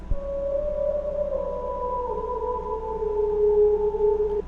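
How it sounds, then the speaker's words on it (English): A reversed music sample gives off a long, wailing, whale-like cry that drifts slowly downward with an echoing underwater quality, holding steady and loud for about four seconds with no voices over it. "Sounds like a whale underwater just crying"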